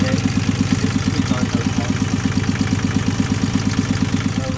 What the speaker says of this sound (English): Just been running the engine for another 20 minutes, all fine